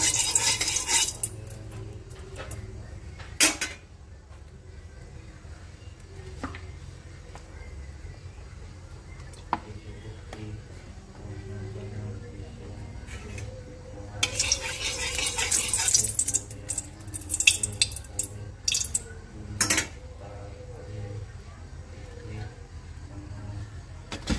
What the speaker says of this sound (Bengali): একটু নাড়াচাড়া দিয়ে নেব।